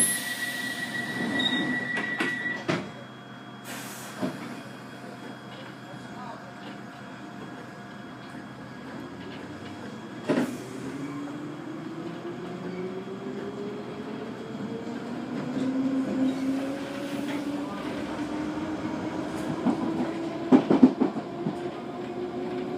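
A London Underground Piccadilly line train runs between Osterley and Hounslow West, a steady rumble with wheel clatter, sharp clicks over rail joints and rising metallic squeals from the wheels, heard from inside the carriage.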